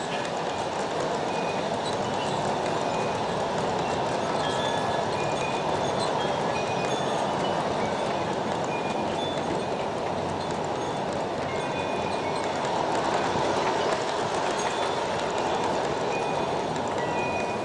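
An Aristo-Craft garden-scale model train, a 40-car refrigerator block train of ice bunker reefers, rolls past steadily outdoors, giving a continuous loud rumble and fast rhythmic clicking of wheels on rail joints for the whole stretch.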